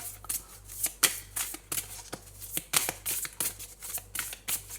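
Tarot cards being shuffled and drawn by hand, a close series of quick papery riffles and flicks coming in uneven bursts, with no one talking.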